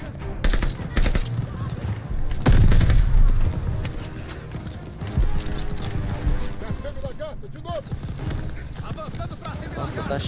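Gunfire in the World War II shooter game Call of Duty Vanguard during its campaign: sharp shots and bursts crack through a dense, busy battle mix, with voices talking over the action.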